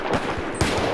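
Gunfire from the video game Battlefield 4, a dense burst of rapid shots with a sharper, louder report about halfway through, heard alone and close.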